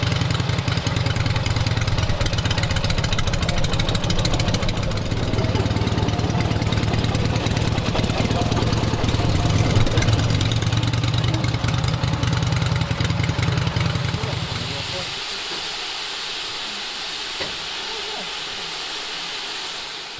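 A Wickham trolley's small engine runs with a steady low, chugging drone, loud and close for most of the stretch before dropping away to a quieter background near the end.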